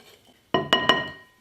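Dry cracker ingredients being mixed in a bowl produce three sharp clinks close together, each followed by a short ring, after a near-silent start.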